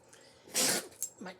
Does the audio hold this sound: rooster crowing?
no